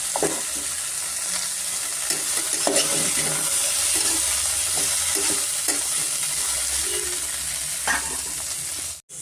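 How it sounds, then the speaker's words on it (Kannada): Cauliflower and green peas fry in hot oil as a spoon stirs them through the pan, a continuous close sizzle broken by scraping strokes and light clinks, with no talking. "ಎಣ್ಣೆಯಲ್ಲಿ ಚೆನ್ನಾಗಿ ಒಂದು ನಿಮಿಷ ನಾವು ಫ್ರೈ ಮಾಡ್ಕೊಬೇಕಾಗುತ್ತೆ"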